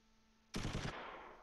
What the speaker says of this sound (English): I guess there's just a machine gun team somewhere.